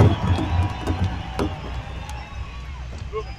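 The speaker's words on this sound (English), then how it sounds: "How about a round of applause, Albuquerque?" A crowd at a powwow grand entry in Albuquerque cheers and applauds in a dense, steady roar, with scattered shouts rising above it throughout.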